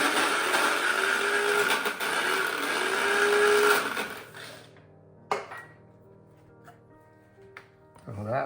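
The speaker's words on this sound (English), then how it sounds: "we put it in our spice grinder, which does have a wet blade" A spice grinder with a wet blade grinds Massaman curry paste, a loud whirring buzz for about four seconds that then cuts off, leaving quieter clatter and a faint knock afterward.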